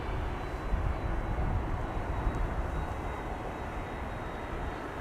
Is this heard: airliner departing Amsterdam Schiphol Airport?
yes